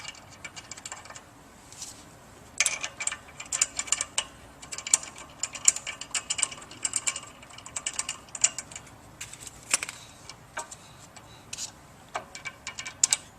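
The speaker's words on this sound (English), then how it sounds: "And we'll just begin inserting the bolts." Bolts being inserted and tightened on a Pentax water pump, heard as a steady run of small metallic clicks and ratcheting ticks, fairly quiet and close, with no talking.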